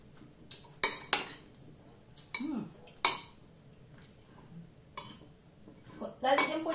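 Olives being mixed in a bowl, with scattered clinks and scrapes of a utensil against the dish, separated by quiet gaps, and a voice talking briefly in between.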